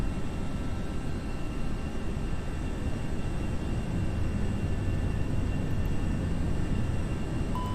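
Airbus A319 jet engines spooling up and roaring on a go-around climb in a flight simulator, a steady broadband rumble that holds level throughout, with no voices.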